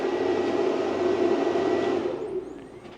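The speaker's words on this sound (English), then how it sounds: "You hear the inverter scream to life." A Redodo power inverter under load from a laser printer gives off a steady, loud electrical whine and hum that holds evenly, then fades and drops away near the end, with no talking.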